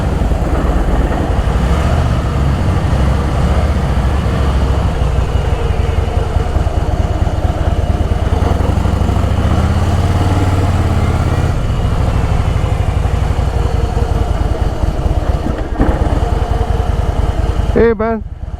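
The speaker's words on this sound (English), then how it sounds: "a sweet motorcycle" A Yamaha MT-01 motorcycle engine idles close by, a loud, steady, continuous rumble that carries on almost unbroken to the end.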